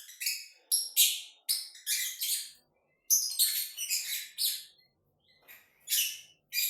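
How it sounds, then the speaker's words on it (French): Pet birds chirp and sing in short, bright bursts separated by brief silences, close and clear, with no talking. "Nous adorons leur chant, car ils se mettent à dire des choses entre eux."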